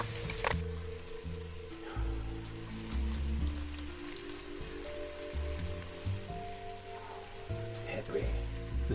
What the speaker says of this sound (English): we're going to add in our beef and sear it